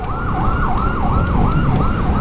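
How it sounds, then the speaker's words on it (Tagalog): An ambulance siren on Mindanao Avenue wails loud and close in a steady, rising and falling cycle, with traffic rumbling steadily beneath it. "Ay kasabay lang tayong ambulansya."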